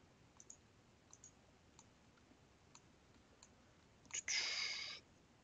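Mouse clicks while trimming and extending lines in Autodesk Revit: faint, sparse single clicks spaced about a second apart in a quiet room, then a brighter, louder burst lasting nearly a second near the end.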